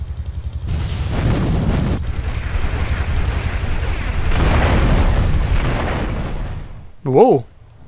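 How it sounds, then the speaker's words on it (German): Bazooka rockets and explosions in the video game Grand Theft Auto III: a long, loud rumbling roar of blasts and fire with heavy low booms, ending in a short warbling burst. "wir haben jetzt die Bazooka"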